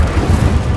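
The Incendio fire spell cast in the video game Hogwarts Legacy: a loud, low, rumbling whoosh of flame that fills the short moment, dense and steady without a sharp onset.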